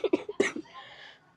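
A few short, sharp coughs up close in quick succession, trailing off into a breathy fade.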